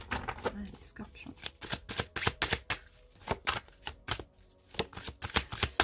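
Tarot cards riffled and shuffled by hand during a reading, a rapid run of crisp close flicks and slaps in uneven bursts, with a voice talking intermittently over the shuffling.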